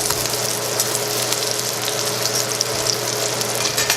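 Burger patties frying in a pan, with a loud, continuous close sizzle and crackle of hot fat that holds steady throughout and has no voices over it.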